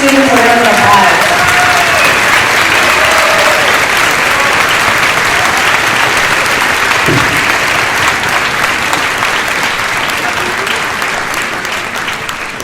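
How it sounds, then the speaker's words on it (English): An audience at an area orchestra festival applauds honor orchestra students with sustained, loud clapping that slowly tapers off, and a brief voice is heard near the start. "Let's give these students a round of applause."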